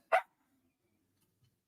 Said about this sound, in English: it's just the one dog barking, guys